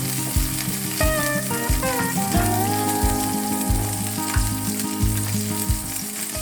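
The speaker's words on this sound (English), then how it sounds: "And then let the veggies fry for a couple of minutes." Vegetables sizzling loudly in an oiled pan, a steady close frying hiss with tonal sputters and occasional stirring scrapes, beside a meal of breaded portobello mushroom caps.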